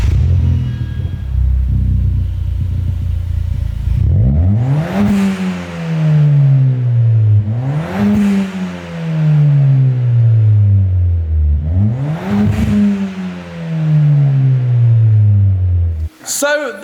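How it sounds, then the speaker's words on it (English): A Ford Fiesta MK7 ST with a Cobra exhaust fires up and then revs hard three times, each rise swelling into a loud, raspy roar before falling back to a rumbling idle, close to the tailpipe. "So the Fiesta ST is now done and it sounds loads better"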